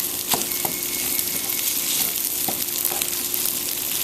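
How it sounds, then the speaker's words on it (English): Hash browns fry in a skillet, giving a steady close sizzle with a few sharp taps and scrapes of a utensil, and no voices. "And then we're going to add in our hash browns"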